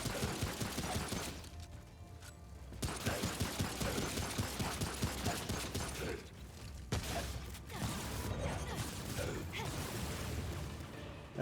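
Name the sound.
full-magazine gunfire in Remnant From the Ashes video game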